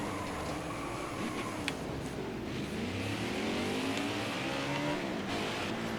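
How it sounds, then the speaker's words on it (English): A NASCAR Heat 5 race car spins out on the Atlanta track, engines droning and whining steadily with shifting pitch as cars sweep past, a continuous roar of racing noise. "As he spins out Greg Biffle."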